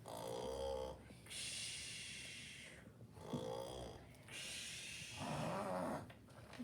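A woman reading a children's picture book aloud imitates a bear snoring with her voice, giving several long, breathy snores in a slow rhythm, each followed by a short pause.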